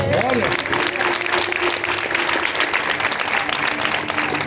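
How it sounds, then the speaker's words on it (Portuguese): A church congregation applauds loudly and steadily throughout, with a preacher's voice audible over the dense clapping near the start. "Você pode aplaudir o Senhor bem forte?"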